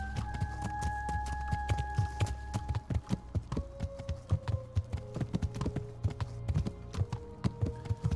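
Horse hooves clip-clop steadily on the ground in Kingdom Come: Deliverance as a summoned horse trots up and arrives, with a low ambient drone and sustained tones fading beneath the rhythmic, fairly close footfalls.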